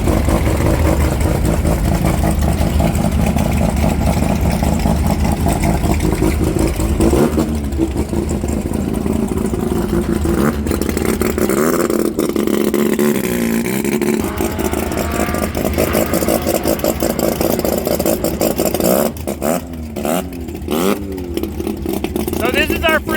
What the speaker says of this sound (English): This little guy sounds so good. The rotary 13B.